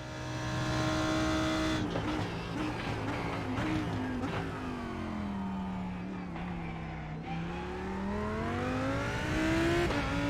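A mid-engine Lamborghini GT3 race car in a racing sim at Hockenheim, its engine note rising steadily under acceleration with quick upshifts, loud and continuous from start to finish.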